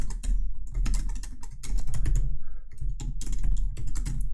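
Computer keyboard typing code, with rapid, irregular clusters of close, crisp key clicks that continue steadily without talk.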